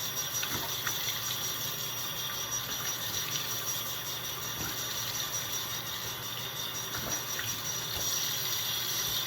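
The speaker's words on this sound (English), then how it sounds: "We'll go ahead and give my skin a good rinse." Tap water runs steadily at a bathroom sink while a face is rinsed after a nighttime skincare routine, a continuous close hiss of flowing water with no talking.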